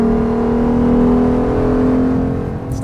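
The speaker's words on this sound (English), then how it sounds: "It makes good power again, but it doesn't sound very good. It just sort of has this mechanical whine to it." Mechanical engine whine from a 2014 Porsche Panamera 4S, a steady sustained tonal drone with a continuous engine hum beneath, loud and close throughout with no talking.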